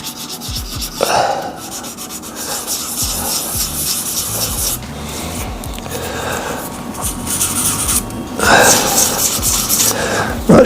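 A burl shaving brush handle is wet sanded by hand with a continuous scrubbing, rasping rub. Strokes come in uneven bursts and grow louder near the end.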